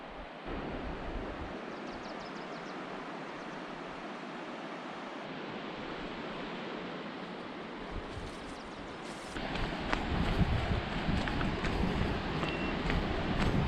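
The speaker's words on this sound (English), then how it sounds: "I can hear the creek down there" A mountain creek rushes somewhere below on an Alaskan slope, a steady broadband hiss of flowing water heard from a distance, with wind buffeting the microphone and the roar growing louder and closer partway through.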